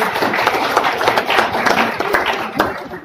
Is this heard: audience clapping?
yes